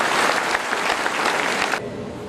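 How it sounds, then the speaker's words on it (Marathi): An audience at a talk by civil service toppers applauds loudly, a dense, steady burst of clapping that cuts off sharply after a couple of seconds. "पुन्हा एकदा जोरदार टाळ्या."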